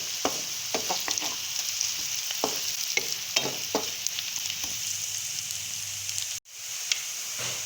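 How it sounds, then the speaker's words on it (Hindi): White cumin seeds fry in hot oil in a pan, giving a steady close sizzle with occasional crackles and stirring taps, broken by a brief dropout near the end. "इसको अच्छे से फ्राई करेंगे।"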